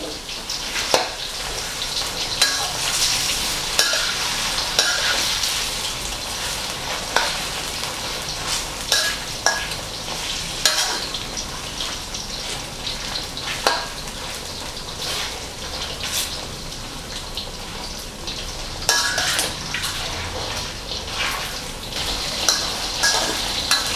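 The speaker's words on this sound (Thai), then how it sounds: "คนเนื้อหมูพริกก่อนนะครับ" Pork belly and chili frying in a pan with little oil: a continuous hiss and sizzle punctuated by repeated scraping and tapping strokes of stirring, close and without voices.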